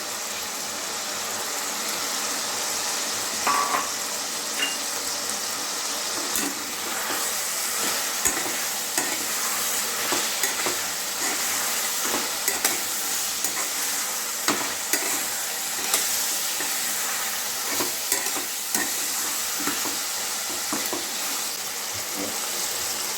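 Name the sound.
diced onions frying in a pan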